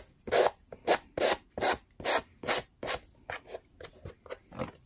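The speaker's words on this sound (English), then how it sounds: "I can take my sanding tool and sand it a little bit." Rhythmic rasping strokes of a sanding tool on a leather edge, close and fairly loud, repeating at a steady back-and-forth pace and easing off slightly toward the end.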